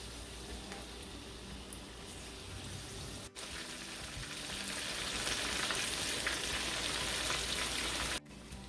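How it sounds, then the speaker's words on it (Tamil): Chicken pieces deep-frying in hot oil for chili chicken, a steady, loud, dense sizzle and crackle that swells slightly after a brief pause and continues without talk. "எண்ணெய் நல்லா சூடாயினோன்னு இந்த சிக்கனை கொஞ்சம் கொஞ்சமாக போட்டு பொரிச்சு எடுத்துக்கொள்ளுங்க."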